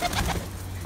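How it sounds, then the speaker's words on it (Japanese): Pigeons at a Japanese Shinto shrine, Miyake Hachimangu, give a short soft cooing call nearby, a low throaty burble that fades out within a second. "時代は変わっても鳩さんがたくさんおられます"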